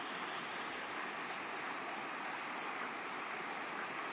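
The Teshio River in northern Hokkaido flows as a steady, broad rushing wash of water, continuous and even, with no speech.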